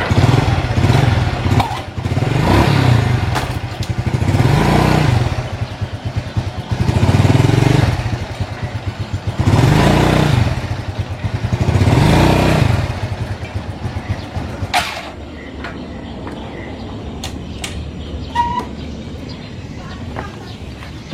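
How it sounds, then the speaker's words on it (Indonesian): A Honda Blade fuel-injected motorcycle with a clutch problem, its engine revved in repeated rising and falling surges about every two and a half seconds, then settling to a lighter idle with some clatter and a few clicks. "saya nyalakan terus saya jalankan motornya ya kayak gini ya"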